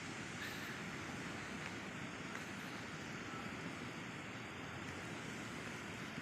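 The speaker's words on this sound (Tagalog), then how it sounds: "Ganda ng alon, no? Pwedeng mag-surfing." Sea waves rolling in continuously at a beach, a broad steady wash of surf mixed with wind buffeting the microphone, with no distinct breaks between swells.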